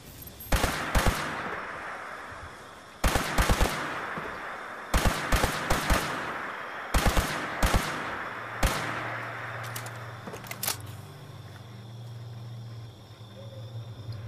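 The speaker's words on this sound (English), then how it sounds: "He's trying to shoot me." Gunfire in the video game Fallout 76: several loud bursts of rapid automatic fire, separated by short pauses, then a low steady hum near the end.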